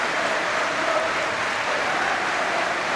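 Sustained applause from a football crowd all around Deepdale stadium, Preston North End against Liverpool, a steady broadband wash of clapping at even loudness with no voices standing out.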